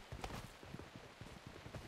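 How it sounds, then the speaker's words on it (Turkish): Footsteps in the mobile shooter PUBG Mobile, heard in first-person mode, make a faint, quick run of soft rhythmic thuds, close together and steady. "Ayak sesi aldım ama pek de emin değilim şu an."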